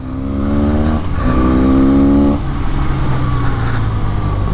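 A Benelli 502C 500cc motorcycle engine revs up hard during a ride, climbing in pitch, dropping briefly, then rising again before settling into a steady, loud drone close by.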